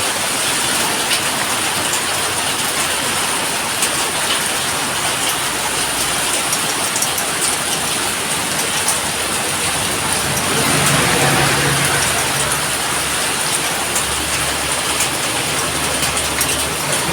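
Heavy rain pours down steadily in a dense, continuous hiss, loud and close throughout, with a faint low rumble underneath.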